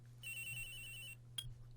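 A cell phone ringtone in the Phoenix Wright: Ace Attorney – Trials and Tribulations video game, a bright electronic ring lasting about a second followed by a short second burst, over a low steady hum.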